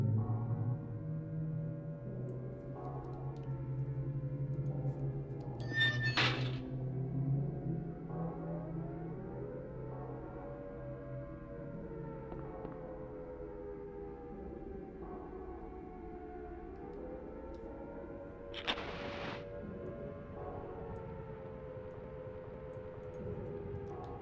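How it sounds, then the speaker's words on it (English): Far-off sirens wail in the Silent Hill video game, long faint rising and falling tones drifting under a steady low hum and wind-like ambience, with no voices. "you can hear it in the background already. The sirens."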